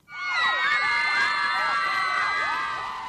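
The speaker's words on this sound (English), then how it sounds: "Screaming fans" A crowd of fans screams and cheers at a concert red carpet at the Charter Hall in Colchester, a dense, sustained high-pitched shrieking with overlapping whoops, loud and continuous throughout.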